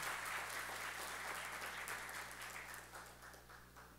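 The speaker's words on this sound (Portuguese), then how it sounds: "Vamos saudá-los com a salva de palmas." Audience applause at a formal civic ceremony honoring guests, a steady wash of many hands clapping at moderate level, slowly fading toward the end.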